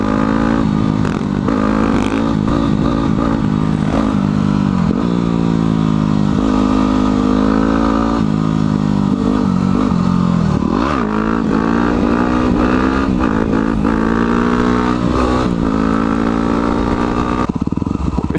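A motorcycle held up in a wheelie roars loudly and close at sustained high revs, its engine note steady with brief dips and rises in pitch.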